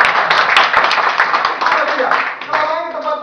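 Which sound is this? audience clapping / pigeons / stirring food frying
audience clapping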